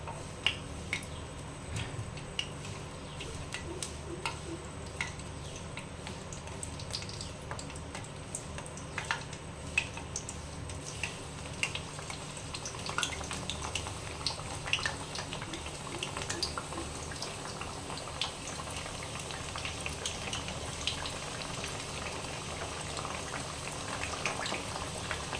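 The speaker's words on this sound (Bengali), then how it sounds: "এরপরে আমি বেগুনগুলো ছেড়ে দিব। বেগুনগুলো ছেড়ে দিচ্ছ।" Eggplant slices fry in hot oil in a pan, a dense continuous bubbling sizzle with fine crackles, steady and close throughout.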